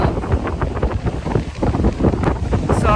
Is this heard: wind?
yes